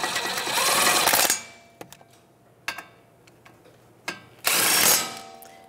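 An electric impact gun with a 17 mm socket snugs up brake caliper bracket bolts on a 2010–2015 Lexus RX350, with two loud rattling bursts separated by a few soft clicks and taps.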